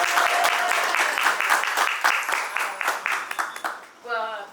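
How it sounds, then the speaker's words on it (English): An audience at a solo art exhibit applauds loudly, the clapping tapering off before a voice begins speaking at the end. "So let's have a big round of applause for Stephanie."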